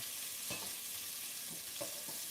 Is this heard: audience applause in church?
no